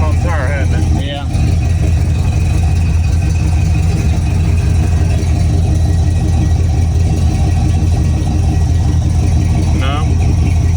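A neglected 1970s station wagon's engine drones steadily while driving on the road, a loud, constant low rumble inside the cabin with a couple of brief higher squeaks.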